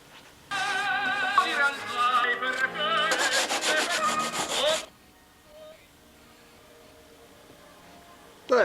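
Hand sanding on wood gives a few seconds of rapid, scratchy rubbing strokes nearby, then stops and leaves near silence.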